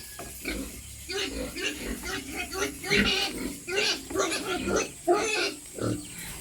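Pigs grunting and snorting in repeated bursts close by, with people talking over them throughout.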